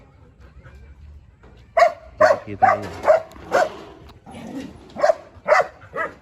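A dog barks repeatedly on a farm in sharp, spaced-out yaps, fairly close, with a brief voice speaking softly underneath.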